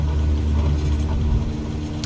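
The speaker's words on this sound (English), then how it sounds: "Let's get full throttle. Let the brake off." A light aircraft engine at full throttle during takeoff in Microsoft Flight Simulator 2020, a steady loud low drone and rumble held continuously without a break.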